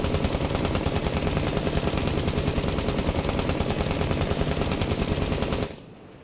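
Rapid, sustained light-machine-gun fire in Rainbow Six Siege, a dense unbroken burst of shots lasting several seconds before cutting off abruptly into near silence.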